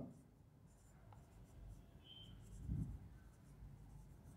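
Pen writing by hand on paper during an accounting lesson, a faint steady scratching that runs through the whole stretch with a slightly louder stroke near the end, alone with no talk.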